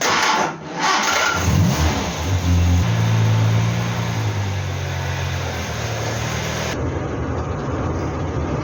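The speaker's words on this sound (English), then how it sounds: "we'll get the car out for a drive anyway" A Hillman Superminx, its cooling system just serviced, cranks and fires into a rising engine roar, then settles to a steady, loud mid-pitched idle close by, with no voices over it.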